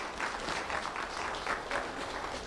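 An audience gives a short burst of steady, fairly close clapping for a board chairperson at a ceremony, holding at an even level for the whole brief stretch.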